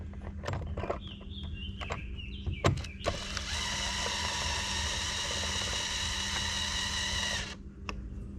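A drill drives a 4-inch wood screw into a garage wall near a light's outlet box: a few short clicks and bursts first, then a steady whirring run of about four seconds that stops abruptly, close and fairly loud.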